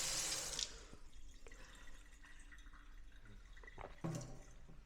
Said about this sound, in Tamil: சிங்கில் பிடிச்சி தண்ணி குடிக்கிறானு நினைக்க வேண்டாம்.